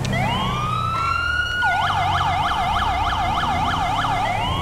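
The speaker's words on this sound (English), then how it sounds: "So I put a new siren, it's like the SS-2000 or something like that." A police siren in Grand Theft Auto V wails with a rising tone, then switches to a rapid, rhythmic yelp, loud and close, with engine rumble underneath.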